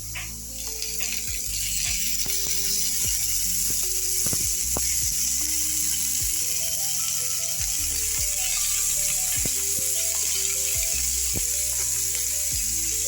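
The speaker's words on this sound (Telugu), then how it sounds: "పచ్చిమిర్చి, ఆనియన్, కొద్దిగా ఆయిల్ వేసి వేయించాలి." Green chillies and onion fry in a little oil in a pan, a steady close crackling sizzle with scattered sharp pops and spits running throughout.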